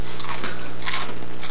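Dry Smurf Berry Crunch cereal, a puffed sugary dyed cereal, is crunched loudly and up close in a few bursts of chewing, with no talking.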